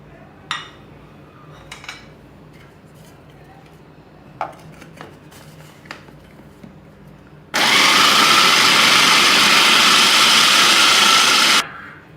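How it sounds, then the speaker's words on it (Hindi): An electric grinder whirs loudly for about four seconds as it grinds spices for chicken seekh kabab, preceded by a few scattered kitchen clatters and knocks. "अब इसमें सारे मसाले शामिल करेंगे, फिर पीस लेंगे।"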